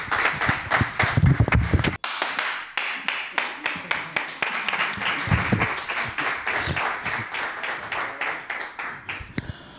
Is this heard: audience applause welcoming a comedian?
yes